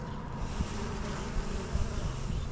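A steady, dense buzzing of many honey bees close by, continuous and unbroken throughout.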